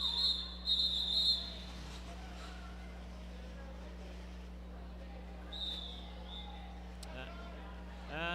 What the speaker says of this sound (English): And we got the rolling whistle to end the half here.